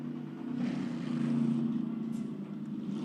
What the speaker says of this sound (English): You just heard the one car release just in front of the three as well.